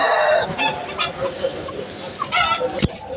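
Hens on a village farm clucking close by in short, uneven bursts, several birds overlapping, with a sharp knock near the end and a voice talking faintly in the background.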